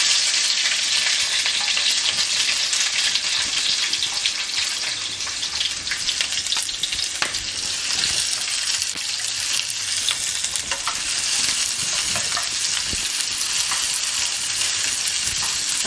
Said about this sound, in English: Our coconut oil is nice and hot, so I'm gonna go ahead and start putting in my vegetables.